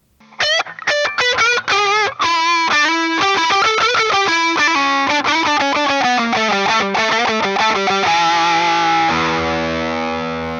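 Electric guitar played through a Supercool THNEED overdrive pedal in its higher gain mode, a quick run of picked notes with a saturated, distorted tone, settling into sustained chords that ring out and slowly decay.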